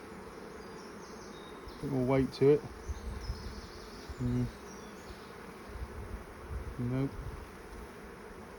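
Bees hum around open hive frames during an inspection, a soft continuous buzz with louder swells as individual bees fly close, while someone speaks briefly.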